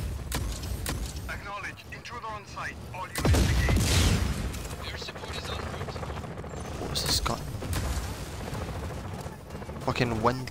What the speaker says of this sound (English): Fucking wind cannon.